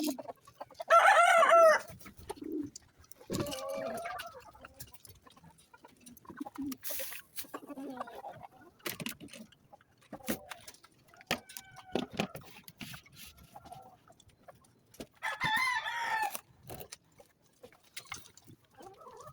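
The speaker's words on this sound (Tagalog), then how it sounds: "So ito naman yung sa ating mga alagang sisiw guys." Backyard chickens and young chicks fussing at feeding time, with a loud rooster-like crow near the start and again later, clucks and scattered pecking and rustling throughout, no talking.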